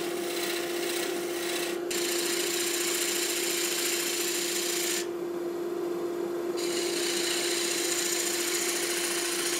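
Wood lathe spinning a silky oak and resin platter blank, a steady loud motor hum with a continuous rasping cut and brief gaps where the tool lifts off the surface.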